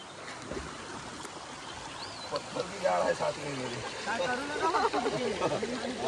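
A river flows in a steady broadband rush of moving water that fills the background throughout, while people talk over it.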